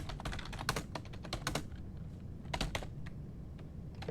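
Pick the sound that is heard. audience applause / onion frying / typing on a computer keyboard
typing on a computer keyboard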